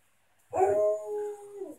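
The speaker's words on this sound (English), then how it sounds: "June's bored, so June barks" A bored dog lets out a single close, loud bark that stretches into a short wavering howl, alone against a quiet background.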